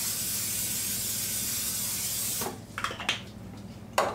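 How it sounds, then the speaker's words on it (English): Cooking spray hisses onto a stoneware 9x13 baking dish in one long continuous burst, followed by a few short clicks and handling knocks. "I'm going to spray it with Pam."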